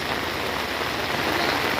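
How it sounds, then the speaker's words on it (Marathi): Heavy monsoon rain pours down in a steady, dense hiss on a surface in Mehkar taluka, constant and loud throughout, with no voices. "जोरदार पाऊस आहे हो."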